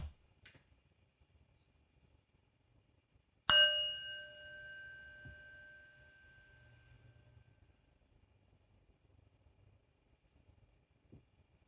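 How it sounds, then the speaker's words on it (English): A single meditation bell is struck once at the start of a bedtime ritual, its bright metallic tone ringing clearly and slowly fading over several seconds in an otherwise quiet room. "We'll begin with the bell."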